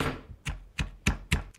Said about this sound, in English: And let's just smash this up to a paste.